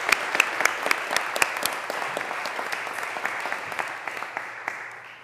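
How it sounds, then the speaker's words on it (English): Audience at a county board of commissioners meeting gives a volunteer a round of applause, dense continuous clapping with distinct sharp claps from nearby hands standing out, holding steady before easing slightly. "Let's give Betty another round of applause."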